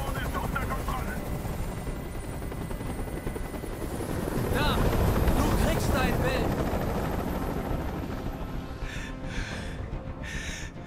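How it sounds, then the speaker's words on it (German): A helicopter's rotor thumps and whirs steadily throughout in the game Detroit: Become Human, swelling louder midway, with faint gasps and bursts of game sound effects mixed in. "Ich halte diesen Krach nicht mehr aus. Dieser Helikopter soll verschwinden."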